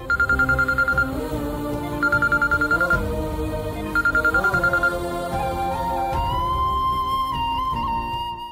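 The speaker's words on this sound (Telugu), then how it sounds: "ఫోన్ వచ్చింది చూడు" A melodic phone ringtone plays in repeating bursts, then shifts into a sustained electronic tune, loud and close with no talking.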